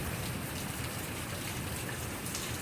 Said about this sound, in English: have to come out here and look at this beautiful rain.